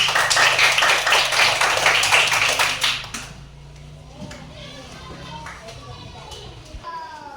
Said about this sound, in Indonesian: Ya, benar sekali. Tepuk tangan buat Lea.